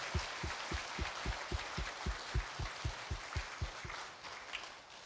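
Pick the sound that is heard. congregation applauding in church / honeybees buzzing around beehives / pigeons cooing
congregation applauding in church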